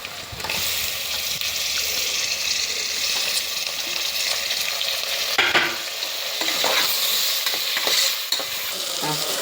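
Tomatoes and onions sauté in a hot pan with a loud, close, steady sizzle. Stirring scrapes and splashes come through in bursts, and no voice is heard.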